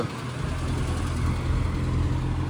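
A BMW 2002 convertible's engine runs with a steady low rumble and throaty hum, close and moderately loud, with no talking over it.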